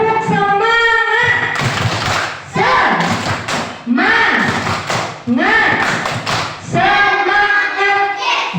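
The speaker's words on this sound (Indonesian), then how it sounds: "Nah, kita lakukan tepuk semangat dulu supaya lebih semangat." A school class in Indonesia performs a rhythmic spirit clap, with groups of hand claps and thumps in a patterned beat between bursts of children's loud chanting and singing.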